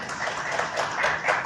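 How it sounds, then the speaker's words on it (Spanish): Audience applause for invited poets at a poetry reading, a dense, steady patter of many hands clapping throughout, fairly close and continuous with no one speaking over it. "démosle un aplauso aquí a nuestros invitados"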